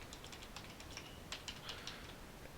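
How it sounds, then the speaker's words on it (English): Quiet typing on a computer keyboard to enter a message into a Cisco router, soft irregular key clicks in a short burst over steady background hiss, with no voices. "we type our message"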